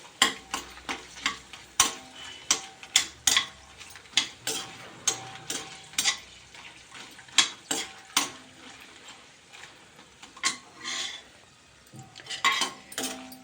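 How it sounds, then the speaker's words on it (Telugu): Chillies, previously soaked in curd, being dry roasted in a pan with no added oil: a spoon scrapes and taps the metal in an irregular rhythm of sharp clinks over a faint background sizzle. "మనం మామూలుగా మిరపకాయ ఎలాగైతే ఫ్రై చేసుకుంటాం అలా చేసేసి రోస్ట్గా ఫ్రై అవ్వాలి"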